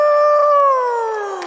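A long, sustained howl of people imitating wolves, one or more voices gliding slowly downward in pitch, fairly loud and close, with no other talk.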